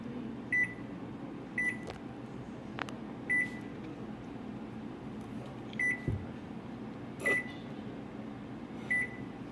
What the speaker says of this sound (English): now that we've finally fixed the microwave